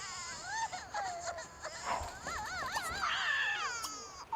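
Sims 2 baby crying in the game, a run of wavering wails and whimpers rising and falling for several seconds, fairly close and alone without talk.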